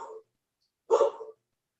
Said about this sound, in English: Got a dog. The dog likes to join in.